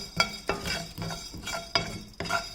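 Cumin and coriander seeds fry in a pan while a spoon stirs them, giving regular scraping strokes about every half second over a light crackling sizzle, close and clear.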